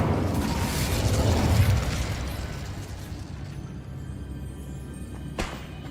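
Incendio fire spell cast in Hogwarts Legacy, a loud burst of roaring flame that swells over the first two seconds, then fades into a crackling tail with a brief sharp pop near the end.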